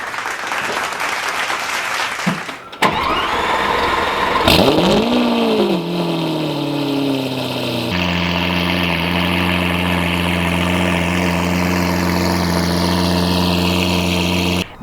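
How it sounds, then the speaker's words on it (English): A Jeep Gladiator fitted with an FI Exhaust system cold-starts with a loud cranking catch and a rising rev flare, then settles into a steady, droning high idle that holds close and loud to the end. "but this is a cold startup."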